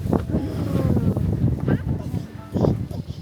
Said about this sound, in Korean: 바람 분다.